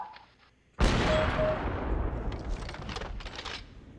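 A loud sniper rifle shot cracks out in a CS:GO match, a sharp sudden blast after near silence that rolls into a long, dense reverberant tail with scattered game noise.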